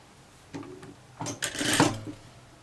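A sewing machine stitching a blouse runs in short bursts, a couple of brief whirs followed by a longer, louder run of rapid stitching, close up with no talk.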